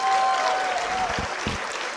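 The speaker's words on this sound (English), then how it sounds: "Let's clap for her a little louder." Audience applause at a university convocation ceremony for a graduate, a steady moderate wash of clapping from a crowd, with a brief tonal whine in the background.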